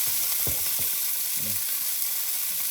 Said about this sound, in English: So I can really fry right there instead of just doing that.